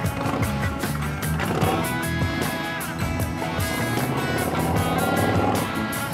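Loud, close engine and exhaust noise from a Yamaha Bolt motorcycle being ridden, a dense rumbling roar with shifting pitch and repeated surges that keeps going without a break.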